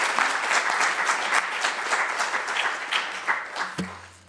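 An audience at a Black History Month discussion panel breaks into warm applause, dense at first and gradually tapering into scattered claps before a voice cuts in.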